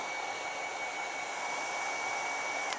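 A hair dryer blows steadily at close range to dry acrylic paint, a constant whirring hiss with no talking and only a brief click near the end.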